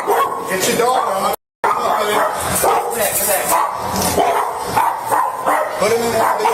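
A dog barks and yips repeatedly in a home as police enter, the sharp barks mixed with people talking over them and a brief dropout in the middle.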